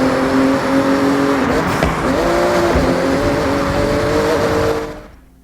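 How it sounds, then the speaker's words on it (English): A Porsche 911 Turbo S, rally version, races in Forza Horizon, its engine droning loud and steady with shifting revs and tire noise before the sound cuts off near the end; no one speaks. "So we got the Porsche 911 Turbo S. I have the rally version."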